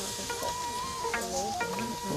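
Korean barbecue meat sizzling on a grill, a steady close crackle and hiss with light stirring or scraping sounds over it.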